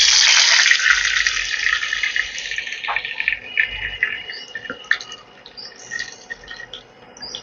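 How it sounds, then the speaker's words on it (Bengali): One cup of water pours into a pan while making semolina and potato snacks, starting with a loud close splash and gush that fades into smaller trickles and drips, with no talk. "এবার এখানে আমি দিয়ে দিচ্ছি 1 কাপ পরিমাণ জল।"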